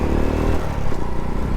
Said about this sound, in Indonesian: Ini mesinnya masih enak banget coy.